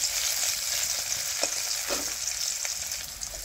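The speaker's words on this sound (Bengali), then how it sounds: "পেঁয়াজ ভাজা হয়ে আছে গা।" Onions frying in a pan for a vegetarian cauliflower curry, a steady close sizzle with a few soft stirring scrapes, heard on its own.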